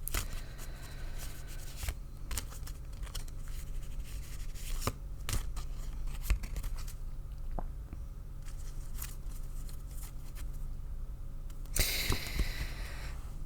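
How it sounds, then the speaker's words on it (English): Osho Zen Tarot cards shuffled by hand in a quiet room, a steady run of soft riffling and tapping with scattered sharper clicks and a brief louder burst near the end. "And I'm shuffling until Spirit tells me to stop"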